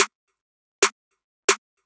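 Three sharp counter snare hits in a trap beat, evenly spaced and dry, each a bright crack with a quick decay into silence.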